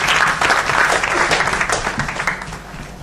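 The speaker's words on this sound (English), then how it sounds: "Please welcome Mohit with a round of applause" A debate audience breaks into loud, sustained applause to welcome a speaker onstage, a dense wash of clapping that holds steady and then eases off slightly.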